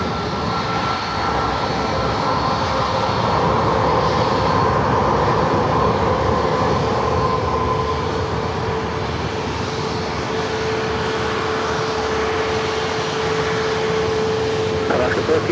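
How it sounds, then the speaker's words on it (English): An Alaska Airlines 737 MAX 9 jet rolls for takeoff on runway 27 at San Diego airport, a loud, steady engine roar with a rising whine that holds through the whole stretch, with voices talking over it. "This Alaska flight heading to Cabo, flight 1414, 737 at MAX 9."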